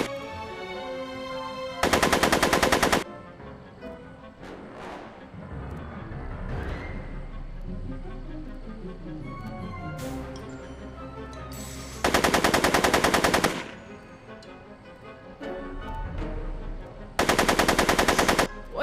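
Repeated loud bursts of machine gun fire from a Back to the Future video game, three long sustained volleys spaced through the clip, with game music and effects playing between them.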